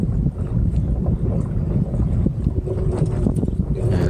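Gusty mountain wind roars over a small sailboat, blowing hard and steady through the whole stretch with rough, buffeting rushes.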